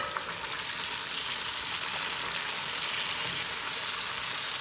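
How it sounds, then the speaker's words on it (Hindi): Pooris frying in very hot oil over a full flame give a dense, steady hiss of sizzling that stays even and fairly loud throughout, with no voices. "और फिर इसको बिल्कुल गर्म ऑयल में फ्राई कर लेंगे हम"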